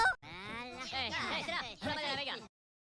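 A cartoon goose honks in a string of loud, squawky, nasal calls with bending pitch, close up and continuous for about two seconds before silence.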